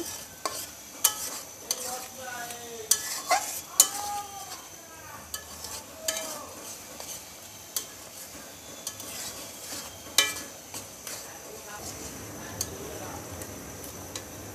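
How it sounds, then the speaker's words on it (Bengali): Onion and garlic frying in a pan for Bengali mutton kosha, a steady close sizzle broken by repeated scraping stirs and clinks of a spoon against the pan, with a faint voice in the background. "পেঁয়াজ রসুনটা ভেজে নিয়েছি।"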